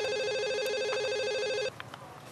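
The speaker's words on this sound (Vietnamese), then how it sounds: "Điện thoại ai vậy con?" Telephone ringing in a home setting from a Vietnamese drama, a steady warbling electronic ring tone that cuts off abruptly after about a second and a half, followed by faint rustling.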